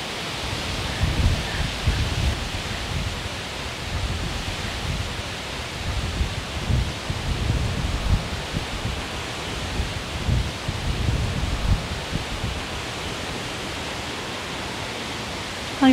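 Steady wind gusts through a New Jersey kitchen garden after two days of rain, rushing through zucchini, tomato and sunflower plants in a continuous broadband whoosh that swells and eases, with no voices.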